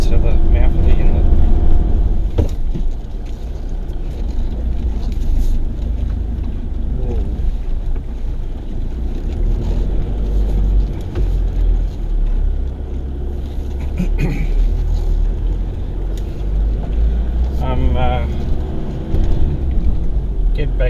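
A manual-transmission vehicle drives off-road on a track toward Broke Inlet, with a steady low engine and road rumble and wind buffeting the microphone continuously for about twenty seconds.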